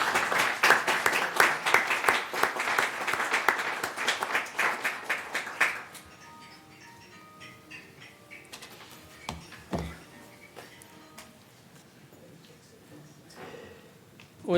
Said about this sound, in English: As you leave these board chairs, I would like to applaud you for your dedicated service